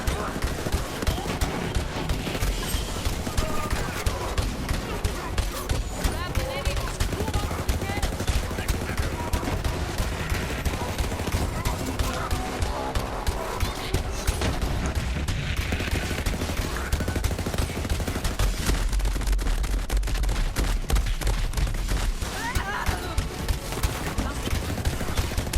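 Rapid automatic fire from a Vladof weapon in Borderlands 3 Mayhem mode, a dense stream of sharp shots with explosive impacts that keeps going without a break, and someone talks over the gunfire at times.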